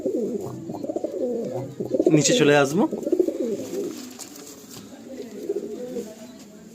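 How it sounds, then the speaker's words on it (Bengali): Pigeons from an original bloodline coo inside a loft, with soft repeated throaty cooing and one louder burst near the middle, heard under someone talking. "দেখুন এইগুলো একদম সব ডাইরেক্ট আনা পায়রা"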